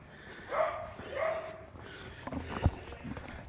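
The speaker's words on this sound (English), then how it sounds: "Sounds like Bailey barking." A dog barks a couple of times at a distance at a caravan and motorhome site, short muffled yaps over outdoor background noise, followed by a sharp knock.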